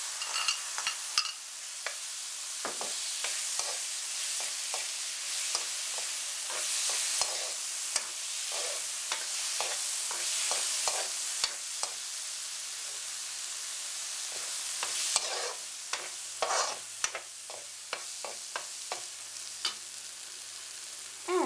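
Turmeric powder frying in hot oil in an Indian vegetarian dish: a steady close sizzle with crackling pops and the scrape of stirring, no talk.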